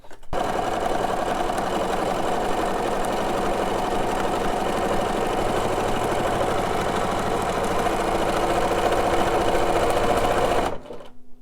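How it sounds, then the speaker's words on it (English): Sewing machine running steadily for about ten seconds, stitching fabric scraps down onto a junk journal cover; a continuous, even mechanical whir that stops abruptly near the end. "I'm going to sew all of these pieces down."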